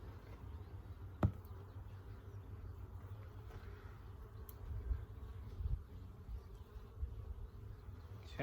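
Soft, low insect hum of honey bees stirring inside an opened hive box during a brood frame check. One sharp tap near the start, otherwise a faint, steady buzz at close range with no talking.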